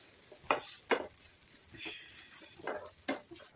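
Coconut and spices frying in a pan, with a steady soft sizzle and a few sharper stirring scrapes, heard close and alone.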